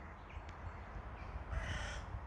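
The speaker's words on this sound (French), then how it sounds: "Nous sommes entourés d'oiseaux" Crows caw from a distance over a steady outdoor background, a couple of faint calls early and a louder burst of cawing near the end.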